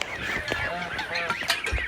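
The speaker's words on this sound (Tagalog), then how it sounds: "nakaabang na yung mga pabo at yung mga gansa" Geese honk and turkeys call in a pen while they wait for feed. Several short, overlapping calls sound close by in quick succession.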